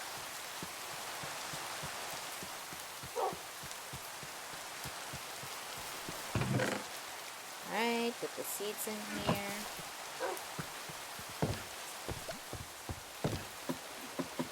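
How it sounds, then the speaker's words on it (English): Strong rain falls steadily in the farming video game Homestead, a constant hiss of drops beneath a voice and scattered clicks and chimes from the game. "The rain literally just came. It's pretty strong too."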